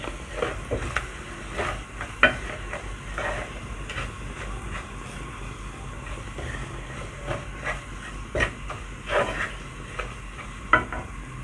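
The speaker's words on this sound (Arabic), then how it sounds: "هنقلب عشان المكعب. اديهم زي تحميصة كده مع البصل" Onions toasting in a pot with a crumbled bouillon cube while being stirred, a steady low sizzle broken by repeated scraping strokes and occasional sharp clacks of the spoon, close by with no talking.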